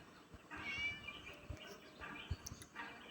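A cat in the video game Scary Teacher 3D gives a few drawn-out meows in close succession, each a wavering cry, over faint thuds and quiet background noise.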